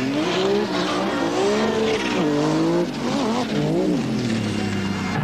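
Rallycross race cars from the 1986 European championship battle on a Swedish circuit, engines howling loud and continuous with shifting revs as they chase each other, while a commentator talks over the noise.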